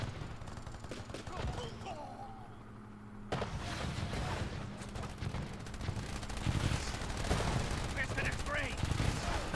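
Gunfire from the war strategy video game This Means WAR!, with bursts of shots and rapid machine-gun-style fire peppering a steady battle din, moderately loud and continuous.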